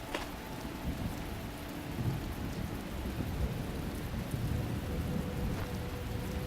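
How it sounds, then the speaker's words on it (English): Steady rain patters in the video game The Talos Principle, a dense even hiss with a low rumble of thunder underneath, faint and continuous with no voices. "No, that's actual rain."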